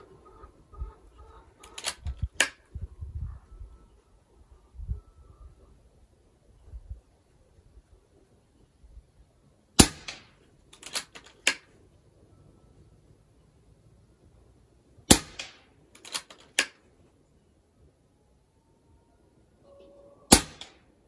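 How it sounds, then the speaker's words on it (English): A .22 calibre FX Wildcat MK3 air rifle fires NSA slugs through a chronograph in three spaced groups of quick, crisp pops. Quiet pauses and faint handling noise separate the groups. "I'm gonna put 3 rounds through there and see if we can get an average speed at that distance"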